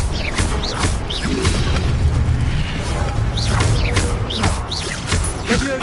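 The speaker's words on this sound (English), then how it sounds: "Incendio." A fire spell burst in Hogwarts Legacy, with booming whooshes and popping bursts layered over steady game ambience and dense background effects, loud and continuous throughout.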